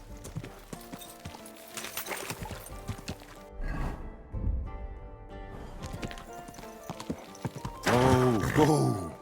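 A horse's hooves clip-clop in a steady, moderate rhythm, close by, joined near the end by a short whinny, with other voices present.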